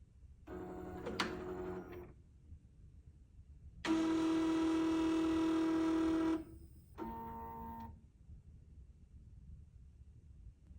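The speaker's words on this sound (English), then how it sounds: "Once you hit OK, you'll notice a sound coming from your motor plate. The motor plate is checking the gears" A long-arm quilting machine's motor plate runs a self-check of its gears and belts, giving three separate mechanical whirring bursts with steady tones, the middle one longest and loudest, with silent gaps between them and no talk.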